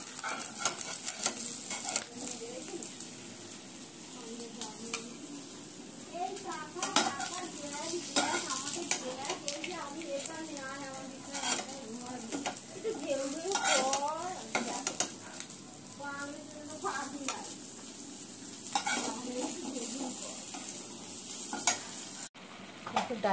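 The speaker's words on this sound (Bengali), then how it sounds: "ডালটা একটু গরম করে নিলাম।" Dal being reheated and stirred in a pan on a home stove, with a steady sizzle and repeated scraping stirs of a spoon against the pan running throughout, close and fairly loud, and no talking.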